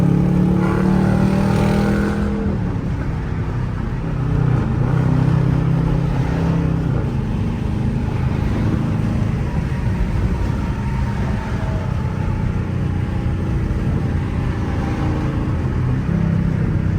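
A Dodge Charger R/T's engine drones and surges through rush-hour traffic, with a heavy, continuous roar and shifting revs from inside the car, loud and steady throughout.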